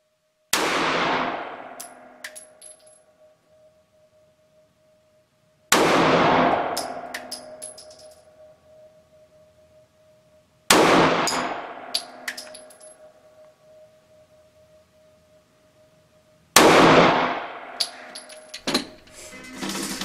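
Pistol shots from a 3.2-inch barreled Walther PPS firing Remington Golden Saber 124+P rounds at 7 yards ring out as four sharp cracks about five seconds apart, each trailing off in a long metallic ring.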